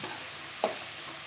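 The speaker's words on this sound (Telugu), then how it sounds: "కొంచెం ఆయిల్లోనే కొంచెం వేపేసుకోవాలి." Mixed vegetables frying in a little oil for semiya upma, a steady soft sizzle with a single brief stir or clink partway through.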